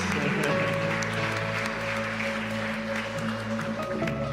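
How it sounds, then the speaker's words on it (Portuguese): Applause fills a church, a steady, fairly loud round of clapping from the congregation lasting throughout, with a faint background hum. "Mais um aplauso para eles"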